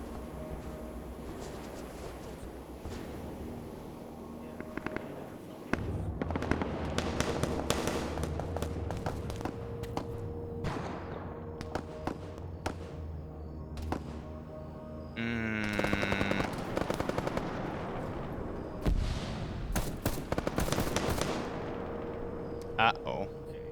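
Gunfire in a military video game during a CSAT operation crackles in repeated bursts and single shots, some near and some distant, over a steady background rumble, with voices talking at times.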